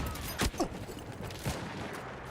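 Sniper gunfire in the video game Battlefield, with a few sharp distant shots that ring out in quick succession early on, then another crack, over quiet game ambience.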